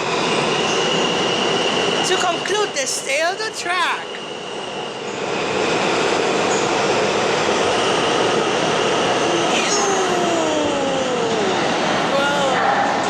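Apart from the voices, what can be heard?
L train departing from 3rd Avenue subway station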